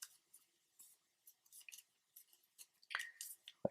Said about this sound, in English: now you want to take this top piece right here and fold that forward